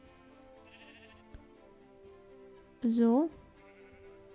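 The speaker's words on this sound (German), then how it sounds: "Na, ihr Schafe." A Minecraft sheep gives one loud, close bleat in a short burst with a wavering pitch, rising above quiet game ambience after a brief spoken word.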